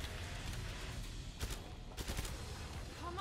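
Suppressed gunfire in the video game Killing Floor 2, with bursts of muffled shots at about 1.5 and 2 seconds over a dense, noisy game soundscape.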